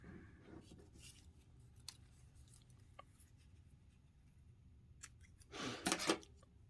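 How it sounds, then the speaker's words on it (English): Scissors make a short crisp snip near the end, cutting paper craft pieces for cards. It follows a quiet stretch with faint rustles and light taps. "I do have some scissors up here. I'm going to cut these."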